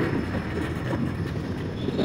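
Indian locomotive 12902 pulls out of Darshana international railway station in Bangladesh, heading for India, with a steady, heavy rumble of rolling wheels and carriages close by and continuous throughout.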